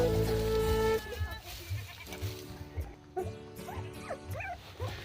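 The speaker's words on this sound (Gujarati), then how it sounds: "તું જોવો, આ એ કૂતરો છે." A black dog barks close by in a run of short, evenly spaced yaps after a brief louder opening stretch.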